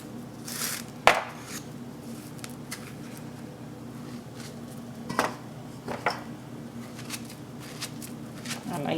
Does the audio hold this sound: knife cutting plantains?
yes